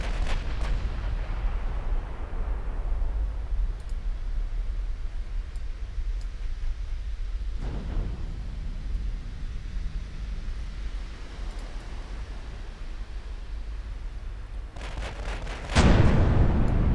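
Warship gun salvos in the naval game Ultimate Admiral Dreadnoughts: deep booming blasts with a rumbling tail over constant low battle noise, and a heavier burst at the end.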